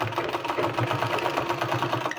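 A sewing machine runs steadily as it stitches a 2-inch strip onto a sleeve, a fast, even mechanical hum and patter heard close with no voices.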